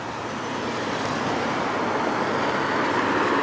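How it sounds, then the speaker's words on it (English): City bus passing on a Toronto street, a steady broad roar of engine and road noise that swells slightly, close and loud, with no talking. "Another 168 bus."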